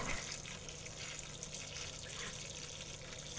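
Water poured over a tray of sprouting wheatgrass, a steady close splashing and trickling that runs unbroken throughout.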